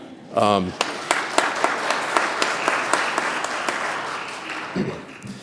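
Congregation members at a church annual meeting break into applause, a dense sustained wash of clapping with sharper individual claps, preceded by a brief voice at the start and a short voice near the end.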